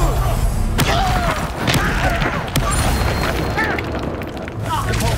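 Booming magical blasts from the Confringo fire spell in the Hogwarts Legacy video game thump repeatedly amid game effects and background music, with a voice speaking over them.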